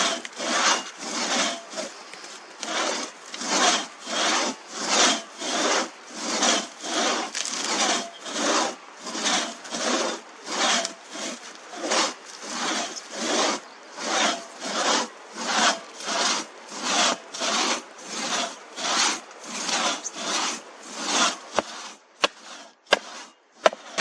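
Rhythmic back-and-forth rasping of a two-person crosscut saw through a log, with steady strokes repeating for a long stretch, ending with a few knocks.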